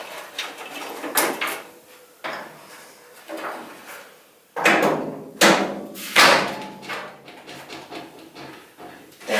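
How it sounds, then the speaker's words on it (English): A car hood on a project wagon being lowered and shut, heard as a series of loud thumps and clunks with sliding metal scrapes spread over several seconds, close by, with no talk. "Let's close the hood."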